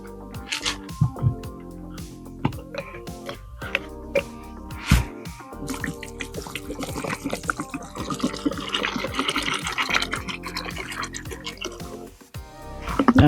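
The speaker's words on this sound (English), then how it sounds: "I'll be giving it a little rinse, and then so now after washing the peanuts," Peanuts are rinsed by hand in water, giving close dripping, sloshing and squishing sounds with scattered splashes that build toward the end.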